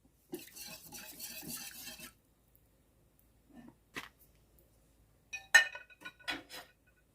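Spoon clinking and scraping in a bowl as rice-noodle batter is stirred, a busy burst of rattling followed by a few scattered knocks and clinks, close and fairly quiet.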